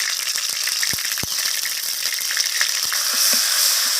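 Ginger paste and cumin powder fry in hot oil with a bright, continuous sizzle, punctuated by sharp spatula taps and scrapes against the pan, all close and fairly loud.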